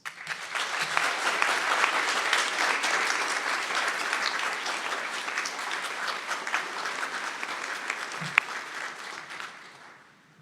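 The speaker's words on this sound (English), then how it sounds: "Let us join in applause for our graduating class" Sustained audience applause at a spring commencement ceremony for the graduating class, a dense steady clatter of many hands that holds for about ten seconds before fading out.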